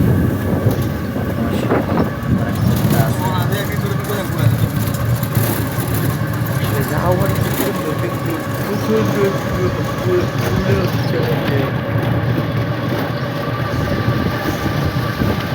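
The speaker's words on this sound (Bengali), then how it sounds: "এই বৃষ্টি হচ্ছে তারপরেও গাড়িতে চলে যাচ্ছে" Vehicles pass along a wet road during rain, with steady rain hiss and tyre and engine rumble continuing throughout in a dense, unbroken wash of sound.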